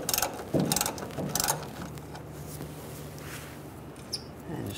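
Ratchet clicking while loosening a bolt on the fuel tank of a 1999-2006 Chevrolet Silverado, a few quick close bursts of ratcheting followed by quieter handling noise.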